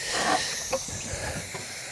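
Water spraying from a hose onto boat engine parts during rinsing, a steady close broadband hiss with brief splashy spurts as the stream shifts across the components.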